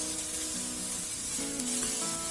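Chopped onion sizzling steadily in hot oil in a pan at the start of a chicken recipe, a close, continuous frying hiss with no talk over it.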